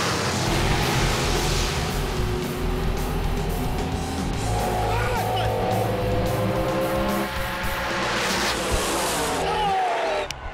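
Ford and Chevy S10 drag racers launch side by side at a drag strip, a loud sustained roar of engines throughout with rising revs near the end, under a faint voice.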